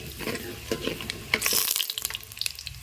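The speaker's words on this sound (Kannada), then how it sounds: "ಶೇಂಗಾ ಬೀಜ ಕಡ್ಲಿಬೇಳೆ ಒಂದು ಸ್ವಲ್ಪ ಫ್ರೈ ಆಗುತ್ತೆ" Peanuts and chana dal fry in a pan with a close, crackling sizzle, broken by the scrape and clatter of stirring, including one louder burst of spitting in the middle.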